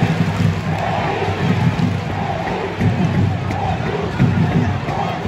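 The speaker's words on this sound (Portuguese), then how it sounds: "Torcida pedindo a entrada do Ezequiel." Fans in a football stadium chant for Ezequiel, a sustained crowd roar with rhythmic swells heard from a distance, a commentator's voice running over it.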